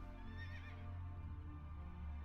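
A horse mount in the World of Warcraft video game neighs once, a loud, wavering whinny near the start that fades into a low steady hum of game sound.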